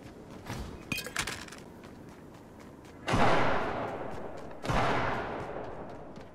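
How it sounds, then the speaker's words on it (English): Two sharp pistol shots in Fortnite, sounding close and fairly loud about a second and a half apart, each ringing out in a short tail over quieter background game noise. "That was a pistol."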